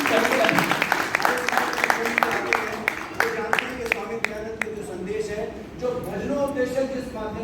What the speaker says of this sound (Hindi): केवल तालियों द्वारा